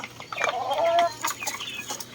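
Chickens cluck and peck busily close by, with soft overlapping clucks and scratchy pecking noises continuing steadily throughout.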